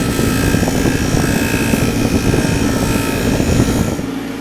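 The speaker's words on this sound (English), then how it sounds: "I think one more go on the hard felt buffing wheel" A hard felt buffing wheel polishing a hand plane blade gives a loud, steady motor whir with a gritty, continuous rubbing texture that runs unbroken for several seconds and then eases off at the end.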